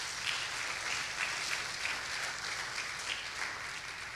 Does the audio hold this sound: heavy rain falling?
no